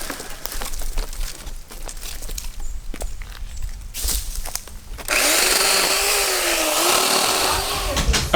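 Small chainsaw cutting wood into smaller pieces outdoors, a loud steady buzzing whine that starts abruptly partway through and runs continuously to the end, after several seconds of lighter handling and thumping sounds.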